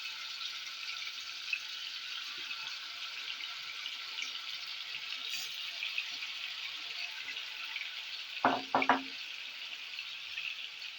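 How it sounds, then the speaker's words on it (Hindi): Chicken frying in hot oil for zinger shawarma, a steady bright hiss of sizzling that holds evenly throughout, with a brief cluster of clatter near the end. "चिकन को फ्राई कर लेंगे।"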